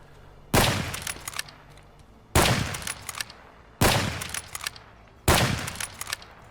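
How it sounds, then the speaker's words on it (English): A TOZ-106 bolt-action shotgun in the video game Escape From Tarkov fires four loud, sharp blasts at even intervals of about one and a half seconds, each one trailing off into a brief echo. "The TOZ-106 is a small lightweight bolt action shotgun."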